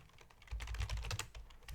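Computer keys clatter in quick, uneven bursts close by at low volume, a streamer typing during a Magic: The Gathering session with no voices.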